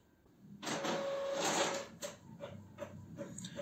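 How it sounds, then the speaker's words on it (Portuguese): An Epson L3150 inkjet printer printing a test page gives a mechanical whirring feed followed by clicks and shuffling paper movements, fairly quiet and close, with no talking. "Confirmei que está saindo a minha impressão"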